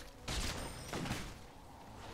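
A Caitlyn headshot in League of Legends, heard as a loud sharp shot burst at about a third of a second and a second impact near one second, fading into quieter game ambience.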